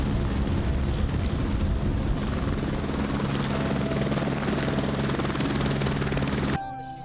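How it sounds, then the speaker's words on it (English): A Eurocopter AS350 helicopter lands in an open field at a Colorado EMS conference, its loud rotor thump and turbine whine filling the air steadily before cutting sharply near the end. "Not too long after, just another helicopter showed up to land."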